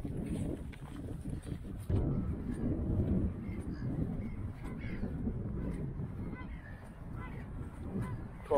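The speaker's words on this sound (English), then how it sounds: "Quite a few geese here as well." Geese honking beside a river on a countryside walk, a scattered flock calling at moderate distance over steady outdoor rumble and wind, with no talking.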